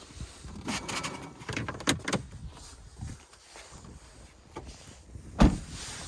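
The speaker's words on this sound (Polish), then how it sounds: "Elektrycznie sterowane szyby razy 4, zamykanie, otwieranie ze środka, blokada szyb" Electric power windows operated inside a 2014/2015 Honda CR-V 2.0 Lifestyle, with motor whirs, a few clunks and knocks, and a sharp thump near the end, close up and without talk.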